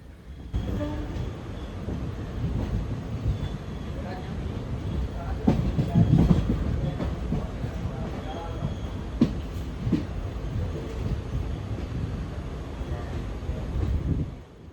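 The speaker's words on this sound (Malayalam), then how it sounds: "ട്രെയിൻ എത്തി തുടങ്ങി" Steady rumble of a train rolling into Kollam Junction station, with rhythmic rail clatter and clanks throughout, a brief louder screech near the middle.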